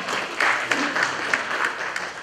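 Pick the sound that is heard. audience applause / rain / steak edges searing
audience applause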